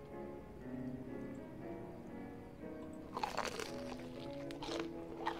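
Crunchy eating in the video game Fears to Fathom: a quiet ambient hum, then a burst of close, loud crunching bites lasting a couple of seconds, with a few more crisp crunches after it.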